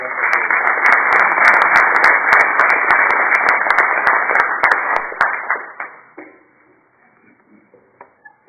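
An audience at a local candidate forum gives a round of applause, loud continuous clapping from many hands for about five seconds before thinning out into a few scattered claps and quiet room noise.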